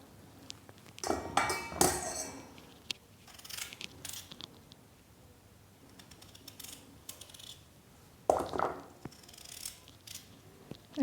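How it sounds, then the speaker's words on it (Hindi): Knife slicing washed raw potatoes on a board, cutting each into halves and then long pieces, with a few crisp chopping clicks and scrapes in short bursts, near and fairly quiet with pauses between cuts. "आलू को हमने धो लिया है और अब इसको हम इस तरह से काट लेंगे"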